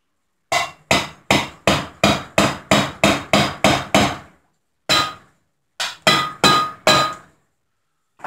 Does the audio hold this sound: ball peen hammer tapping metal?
yes